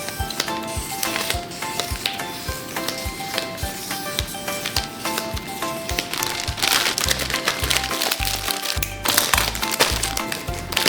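Cellophane bags crinkle close up while the adhesive strip is cut off, a busy run of crackling rustles and sharp snips that grows louder toward the end.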